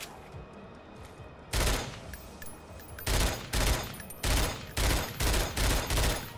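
Bursts of automatic gunfire from The Darkness 2 ring out loud and close: one early burst, then a rapid series of five or six short volleys in a steady rhythm over a quiet background.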